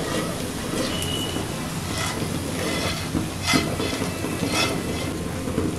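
Moong dal halwa being stirred with sugar syrup in a pan, a steady sizzling hiss broken by a few sharp scraping strokes of the spoon.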